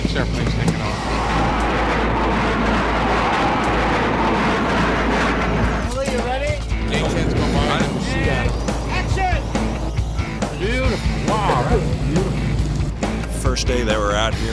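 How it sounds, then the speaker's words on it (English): Six fighter airplanes take off during Operation Red Flag, a loud continuous broadband roar filling the scene while people talk over it. "Why don't we have 6 airplanes taking off?"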